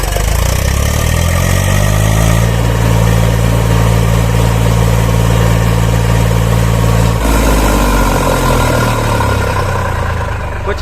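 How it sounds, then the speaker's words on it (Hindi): A 2021 Eicher 380 Super Plus tractor diesel engine idles close by, a loud steady low throb with a shift in pitch partway, running alone without talk. "तो कुछ इस तरह का साउंड है इस ट्रैक्टर का।"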